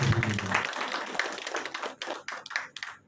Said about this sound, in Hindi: और एक बार जोरदार तालियां चाहूंगा सर आप सभी को।